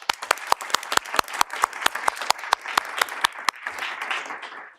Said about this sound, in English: maybe a round of applause for all the speakers.